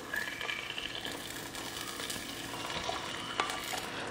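Cashews and raisins are stirred into jackfruit seed payasam (chakkakkuru pradhaman), a soft, faint sizzling and scraping that runs continuously with a small clink near the end.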